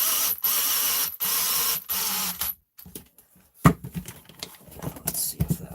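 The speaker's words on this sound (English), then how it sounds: "just bolt this down" Close mechanical ratcheting and clicking from a motor being bolted into an Arrma Big Rock RC car, in bursts with a brief pause and then scattered sharper clacks and taps.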